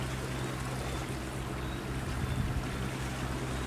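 A Vietnamese fishing boat, part of a fleet near Khánh Hòa returning at speed to port to sell anchovies, gives a steady low engine drone over broad wind and water rush, loud and constant throughout.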